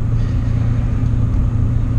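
A BMW E39 M5 is driven hard, its engine producing a loud, steady low rumble that stays close and continuous.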